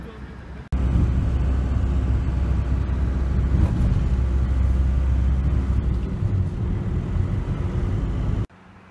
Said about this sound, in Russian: вот эта вот красная маршрутка, она должна идти в Кабулет